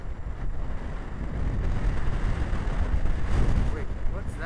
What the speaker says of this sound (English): The wind! The wind!